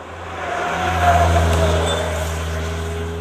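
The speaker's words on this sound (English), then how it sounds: "And full throttle out of the corner" A Mercedes-Benz C180 pulls out of a corner at full throttle, its engine drone rising to a peak and then holding as a steady, loud hum with a strong low-end rumble.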